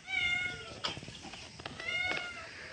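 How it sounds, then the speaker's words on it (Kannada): A cat meows several times in a short, close run of drawn-out calls on a cattle farm during midday rain, with faint background noise between the cries. "ನೋಡಿ, ಇಲ್ಲೊಂದು ಬೆಕ್ಕುತ್ತಿದೆ"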